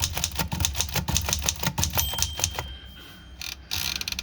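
Platen card clamp on a 1930s Remington typewriter being worked, a quick series of close mechanical clicks and ratcheting ticks, then a short pause and a final clack as it is released.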